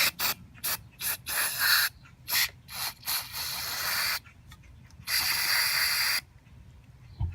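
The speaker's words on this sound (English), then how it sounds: "we're going to take some of the carburetor throttle body cleaner, and we're going to spray this" Carburetor and throttle body cleaner sprayed from an aerosol can onto a 2007 BMW X5 E70 VANOS exhaust solenoid, close loud hissing bursts in short repeated squirts, then one longer continuous spray.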